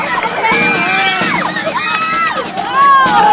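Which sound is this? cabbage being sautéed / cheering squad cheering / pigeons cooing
cheering squad cheering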